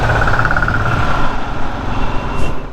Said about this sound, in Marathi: मानगावची ट्रॅफिक बघा